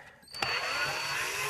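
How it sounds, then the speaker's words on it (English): A power drill whirs steadily close by while removing the headlight projector from a Nissan 350Z, starting after a brief click and running continuously to the end with no talking. "now basically I'm removing the projector, and I use my power drill."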